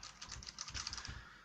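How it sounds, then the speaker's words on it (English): Typing on a repaired Corsair K70 RGB mechanical keyboard, a quick run of close, crisp key clicks in an uneven rhythm, with no talking. "So if we go into Notepad, type some characters in, everything seems to be working."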